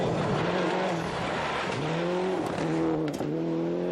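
Rally car from the 1995 World Rally Championship racing fast on a New Zealand stage, engine note climbing and dropping through repeated gear changes, loud and continuous with wind and gravel noise around it.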